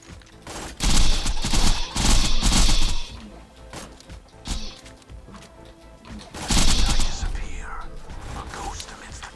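The Sandhawk in Borderlands 3 fires its wavy bullets in two loud, rapid volleys of crackling shots, separated by a quieter stretch of scattered impacts.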